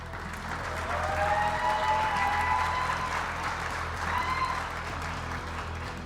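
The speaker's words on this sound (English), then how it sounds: "Let's have another round of applause for all of the Game Art grads." Sustained audience applause at a graduation ceremony honoring game art graduates, a dense steady wash of clapping from a large crowd lasting several seconds with faint cheers mixed in.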